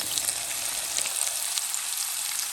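A pan sizzles and crackles steadily as chicken pancake batter fries, a bright continuous hiss up close with no voices.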